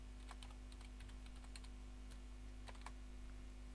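Irregular quick keystrokes clatter on a computer keyboard while JavaScript code is written, close and light over a steady electrical hum, with no talk.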